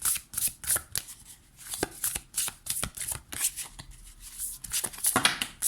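Tarot cards being turned over and handled on a table: rapid, close papery flips, snaps and slides in a busy, uneven rhythm, crisp and fairly loud, with no talking.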